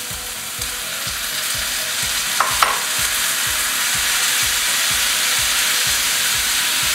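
Scallops sizzle in a hot pan, a loud continuous frying hiss with faint rhythmic low thumps underneath and a couple of brief clinks partway through.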